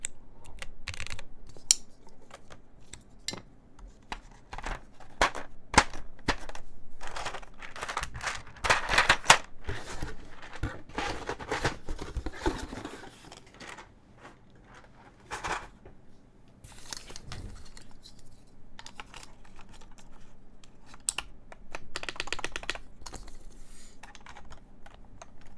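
Steady clacky keystrokes from a Geonworks F1-8X mechanical keyboard, close and crisp, with occasional heavier thumps of an EPT spacebar, no talking.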